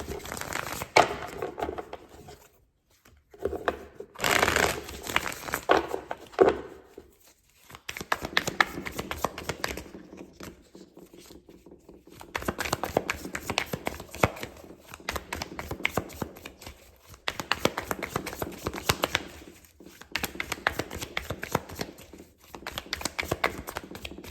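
Tarot cards being shuffled by hand, with several bursts of riffling and flicking as cards slip and flip out of the deck, close up and fairly crisp, pausing between shuffles.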